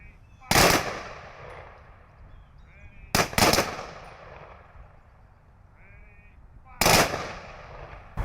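Rifle volleys of a 21-gun salute at a military funeral: three sharp separated cracks, the second a quick double, each trailing off in echo outdoors, moderately distant.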